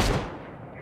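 A single gunshot in ROE, a pirate-sea shooting game: one loud, close burst that fades into a short, echoing tail.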